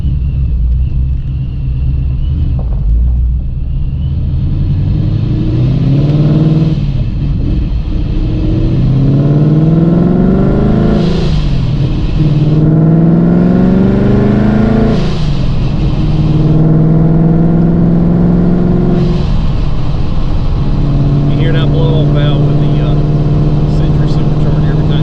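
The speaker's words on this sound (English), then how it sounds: "just as soon as I give it some throttle, the Ghost Cam effect goes away" A Coyote V8 Mustang with a ghost cam tune pulls away on a street, its engine rising loud and close through several gear changes as the revs climb, drop and climb again, while someone talks over it.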